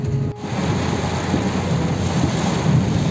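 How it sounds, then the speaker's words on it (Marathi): Heavy monsoon rain in coastal Konkan, Guhagar, drums steadily over rice fields, and a low rumble of thunder rolls underneath. No one speaks. "समोर पाऊस आला आता."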